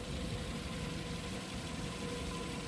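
A car engine idles steadily to circulate its engine oil, an even low rumble with a faint rhythmic knock, close and constant without talk.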